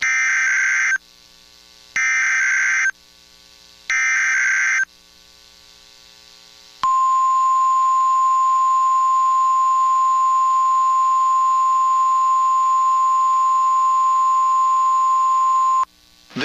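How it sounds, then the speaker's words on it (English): A NOAA Weather Radio warning alarm device under test gives three short electronic beeps over a faint hum, then one long, steady, piercing tone that holds for about nine seconds before cutting off. "This is a test of the NOAA Weather Radio warning alarm device"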